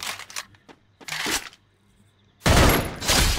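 MP40 submachine gun fire in the video game Free Fire: several short bursts of shots early on, a pause, then a louder sustained volley near the end, with no talk over it.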